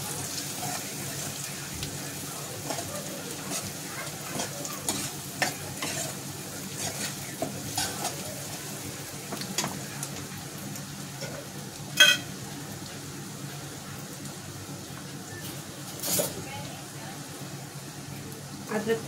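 Onion fries and sizzles in a pan while a utensil stirs it with scattered scraping clicks, a steady close hiss running throughout as a voice talks over it.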